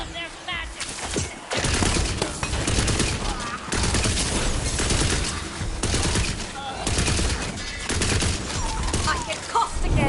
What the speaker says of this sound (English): Magic barrage! Careful of their magic!